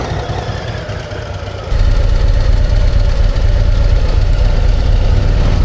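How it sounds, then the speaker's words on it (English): 2025 Harley-Davidson CVO Road Glide ST motorcycle with Screaming Eagle exhaust, engine idling close by with a loping, pulsing rumble that suddenly gets louder and deeper partway through, continuous with no speech. "It has Screaming Eagle exhaust on it, but I'll tell you it's a little quiet."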